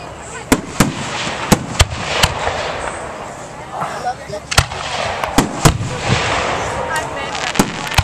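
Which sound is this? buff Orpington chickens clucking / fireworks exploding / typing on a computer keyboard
fireworks exploding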